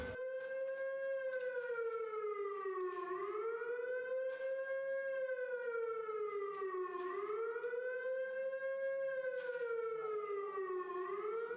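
A rising and falling air-raid siren wails steadily, its pitch swooping up and down in slow cycles, loud and continuous with no voices.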